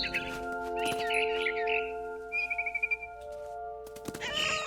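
Small bird chirping in the video game What Remains of Edith Finch: bright tweets and a quick fluttering trill over a steady tonal game soundscape, close and clear with no talking.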